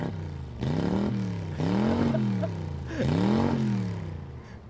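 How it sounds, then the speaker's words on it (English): A car engine in GTA 5 revs hard three times, each burst sweeping up and then falling back, loud and close with no speech between. "And then I'm just gonna be revving the engine,"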